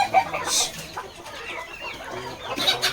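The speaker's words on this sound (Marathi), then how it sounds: "कोंबडे बघा" Several young desi chickens and roosters cluck and murmur nearby in uneven bursts, with a brief louder squawk near the start and no talking.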